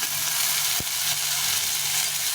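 Onion fries in a pan with a continuous close sizzle of hot oil, broken once by a single sharp click.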